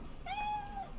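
A single cat meow from a cat being petted in the video game Cyberpunk 2077, a clear rising and sustained tonal cry lasting under a second over quiet background.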